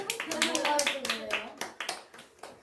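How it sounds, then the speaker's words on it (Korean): A group of children at a Sunday children's worship service claps in quick uneven bursts, fairly close and moderate in level, with a voice and adult speech overlapping the claps. "박수 쳐 빨리."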